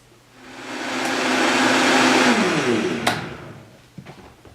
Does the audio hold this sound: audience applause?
no